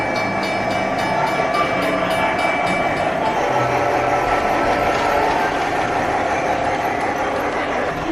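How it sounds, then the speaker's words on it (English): Continuous rumbling of a small train running along its track, a steady whir with faint clicking and a thin tone early on. "Oh, Derek just made that little train move."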